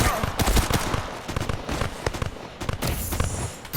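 Rapid gunfire in the VR shooter Tactical Assault, with dense bursts of sharp shots and overlapping cracks at a loud, busy level, while voices talk over the firing.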